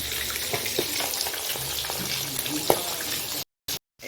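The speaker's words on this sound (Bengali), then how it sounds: "আর এখানটা দেখো মাছ ভাজা হচ্ছে" Fish frying in hot oil in a home kitchen, a steady broad sizzle with a few faint clinks and one sharper tap, continuous at close range before cutting out abruptly near the end.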